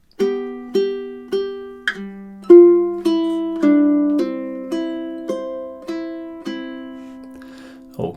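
Ukulele plays four measures of the Mexican folk song Cielito Lindo, a steady sequence of plucked chords and single notes that ring out and fade, close and clear, with no voices.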